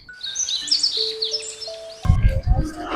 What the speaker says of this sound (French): là oh il y a un petit oiseau, il est trop mignon